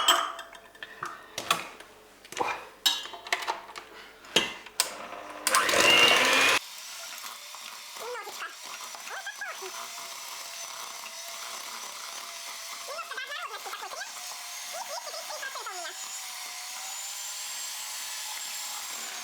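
Electric hand mixer whipping meringue for a meringue roll, a loud whirring burst after some clicks and knocks, followed by a faint, steady high whine with light clatter under it.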